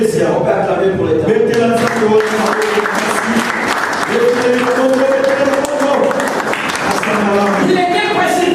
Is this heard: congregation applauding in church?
yes